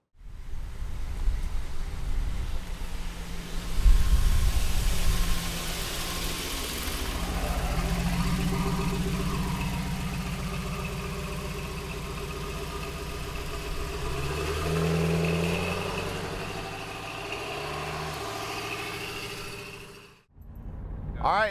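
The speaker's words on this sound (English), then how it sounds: "All right, let's take a 73 Camaro for a ride." A 1973 Chevrolet Camaro with a carbureted LS V8 runs close by, a low rumbling idle swelling into revs and settling again over about twenty seconds, with cabin and road noise and a brief drop near the end.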